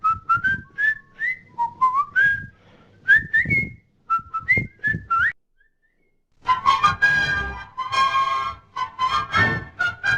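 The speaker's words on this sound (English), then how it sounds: "Now let's move to a case where someone is whistling as an input." A person whistles a lively tune in short rising phrases, pauses briefly, then carries on with a denser, longer whistled melody, clear and close.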